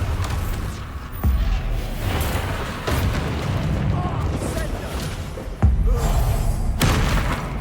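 Bombarda blasting spells in the video game Hogwarts Legacy go off as several heavy booms and thuds amid continuous battle noise, with sharp hits at intervals and a voice talking over the fighting.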